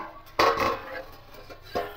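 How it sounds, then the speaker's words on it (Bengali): A metal lid lifted off a steaming pot of hilsa bhapa, a sharp clank followed by a scraping rattle, then a second lighter clink, close and otherwise quiet. "এবার গ্যাসটা অফ করে দেব, দিয়ে ঢাকাটা খুলে নেব।"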